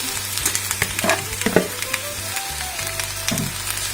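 Onion fries over medium heat in a pan, crackling and sizzling steadily up close while a utensil knocks and stirs through it in quick, uneven strokes, with nobody speaking.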